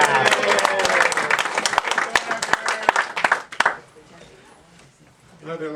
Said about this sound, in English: Clap your hands twice.